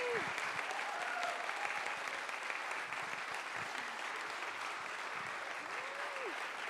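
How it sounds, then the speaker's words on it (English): Symphony concert audience clapping in a sustained, even burst, many hands at a moderate distance, with a couple of brief whoops and a faint voice rising over the applause. "So please give her another hand of applause"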